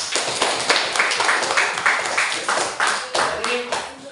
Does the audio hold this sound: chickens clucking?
no